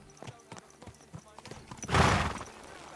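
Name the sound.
horse hooves clip-clopping, video game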